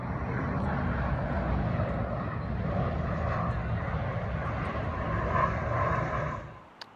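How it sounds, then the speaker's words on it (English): A plane flies overhead near an airport, a steady broad roaring rumble that holds at moderate loudness for several seconds, then fades out quickly at the end. "We also live quite near an airport and planes fly overhead."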